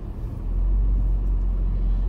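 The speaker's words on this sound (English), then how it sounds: "My car can barely make it up there." An old car labours up a steep garage ramp, its engine a loud, low, steady rumble that swells after a brief start and holds close by.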